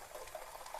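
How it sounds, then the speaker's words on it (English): Water sloshes and swirls inside a film developing tank as it is rinsed, a soft, continuous watery churning close by at low volume. "put a little bit of water in here, rinse it around real good."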